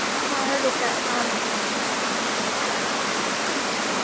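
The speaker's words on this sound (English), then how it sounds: "there's so much sound with the river and the waterfall behind us" A steady, dense roar of rushing water, like a river and waterfall close by, broad and unbroken throughout with no other sounds standing out.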